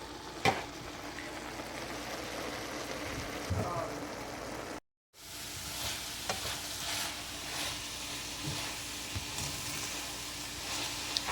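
Onions and beef sizzle and fry in a pan for beef stroganoff, a steady crackling hiss with occasional stirring scrapes, briefly cut by a dropout midway.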